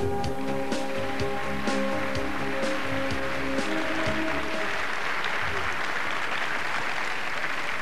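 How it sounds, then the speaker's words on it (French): Audience applause for André Truong at a corporate event, a steady broadband clapping wash that fills the whole stretch, sounding like rain, with music or tonal sounds beneath it early on. "Mesdames, Messieurs, vous allez faire une ovation à Monsieur André Truong."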